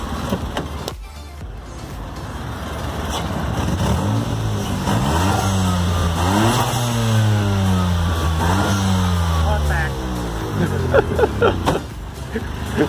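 Car engine in a repair garage with a suspected leaking exhaust pipe, revved repeatedly, the pitch rising and falling in several loud sweeps that swell to a sustained high before settling back.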